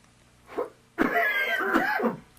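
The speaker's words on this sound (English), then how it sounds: "First, the coughs." A person coughing, one short muffled cough followed by a longer, louder burst of harsh coughing and throat noise, close and alone with no talk.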